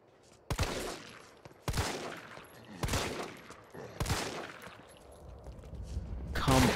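Gunfire at zombies in Resident Evil 3: a handful of loud, separated shots about a second apart, each with a sharp crack and a decaying boom, then a louder burst at the end.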